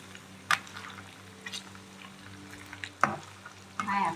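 Pork belly and pork ribs frying in oil in a pan, a quiet steady sizzle broken by a few sharp scrapes or stirs near the start, middle and end.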